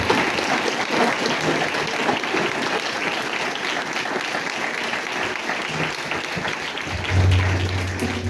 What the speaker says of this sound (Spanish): Y le dan un fuerte aplauso al Señor.